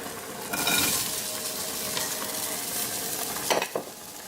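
Celery frying in a pan, a continuous close sizzle that swells at the start as it goes in, with a few stirring scrapes and clicks toward the end.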